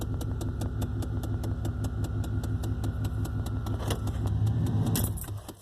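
A truck with a broken frame and about 161,000 miles on it runs steadily as it creeps forward, its engine thrumming with a regular ticking pulse before easing off at the end.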